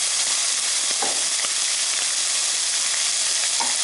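Bacon frying in a worn non-stick pan, a steady loud crackling sizzle with occasional sharp pops, close up and continuous with no voices.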